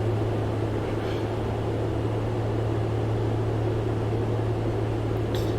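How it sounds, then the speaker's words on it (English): A Cessna 182 engine drones at steady cruise power inside the Prepar3D flight simulator, a continuous even hum with a strong low tone that stays constant from start to finish, with no talking over it. "Just listening out for the engine."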